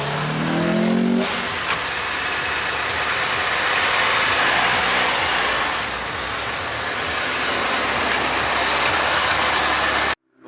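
A Mazda 3 pulls away after a late-night drop-off, its engine a steady broadband rumble that stays loud and close for about ten seconds before cutting out.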